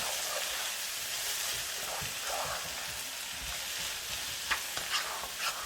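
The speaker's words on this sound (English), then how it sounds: "So we're going to keep giving this a mix, making sure it doesn't burn." Ingredients for olive and mint chicken sizzle and fry in a pan while being stirred, a steady bright crackle with a few louder scraping stirs near the end, no talking.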